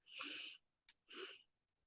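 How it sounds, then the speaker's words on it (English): Two soft, raspy wheezing breaths close by, each lasting about half a second with a brief snuffle between them: a cat snoring quietly. "If you hear like a little like wheeze thing in the background, it's my cat snoring."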